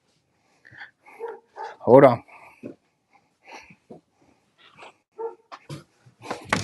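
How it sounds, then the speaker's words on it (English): A dog named Dash barks indoors, giving one loud close bark and several quieter yips and whimpers, scattered between bursts of a man's speech. "I don't want him to be barking like that."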